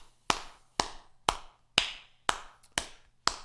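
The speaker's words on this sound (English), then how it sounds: "You should be able to clap along with me like that." Seven crisp, evenly spaced hand claps, about half a second apart, keep a steady beat in a primary-school drumming lesson. Each clap is sharp and close, with quiet between; no talking.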